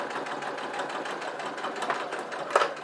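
A sewing machine runs steadily as it stitches a fabric napkin holder, a continuous close mechanical whir with a slight bump near the end.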